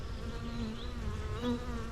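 Honey bees buzz steadily inside a resource hive, a dense continuous drone of many insects close by with small swells in loudness, no voices.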